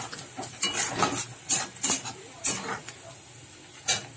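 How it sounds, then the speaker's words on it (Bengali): Chopped onion fries in oil in a pan while being stirred, with repeated clinks and scrapes of a utensil over a low sizzle, close and moderately loud, and occasional faint voice in the background. "এর মধ্যে দিয়ে দিচ্ছি পেঁয়াজ কুচি, পেঁয়াজটা লাল করে ভেজে নেবো।"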